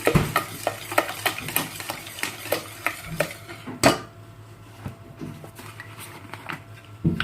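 Chocolate cake batter with added oil is stirred in a bowl, giving a run of rhythmic clinking and tapping strokes of a utensil against the dish, close and fairly quiet, then a softer pause before more scraping.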